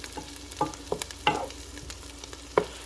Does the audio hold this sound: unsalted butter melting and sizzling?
yes